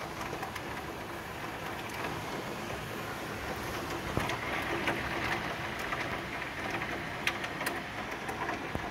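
Heavy rain pours steadily onto a flooded street during a strong storm, a dense, even hiss with scattered sharper drops and no voices.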